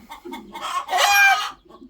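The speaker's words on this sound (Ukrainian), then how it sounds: "Ой, кури прям не дають зазняти." Chickens cluck in short bursts, then one lets out a loud, drawn-out squawk before settling back to soft clucks nearby.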